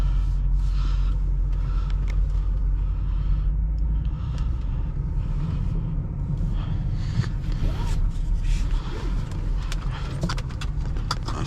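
A Honda Accord with a gapped twin-turbo V8 runs on a dyno, a loud, continuous deep engine rumble that fills the whole stretch without letup.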